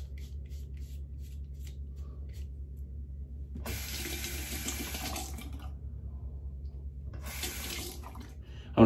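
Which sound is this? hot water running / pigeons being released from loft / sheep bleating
hot water running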